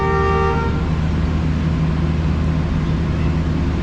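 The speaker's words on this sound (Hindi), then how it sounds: "2 मिनट खड़े होने के बाद ट्रेन ने डिपार्चर हॉर्न दे दिया।" A passenger train's departure horn sounds a short tonal blast at the start during a stop at Jhelum railway station, followed by the low rumble and hum of the engine idling.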